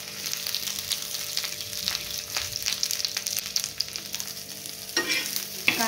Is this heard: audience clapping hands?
no